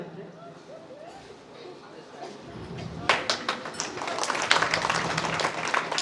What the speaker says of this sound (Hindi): आप लोग तालियों से मदद जारी करें।